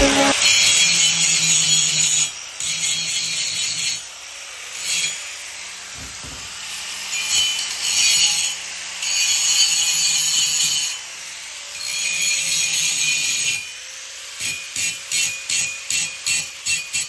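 A power tool cuts into metal on a car's rear end in a series of whining bursts separated by pauses, with a few clanks, then ends in quick short pulses, all close by.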